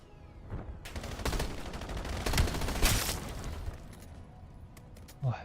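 Rapid gunfire bursts from the Call of Duty video game, dense rattling volleys and booms played loud and close, with no one speaking over them.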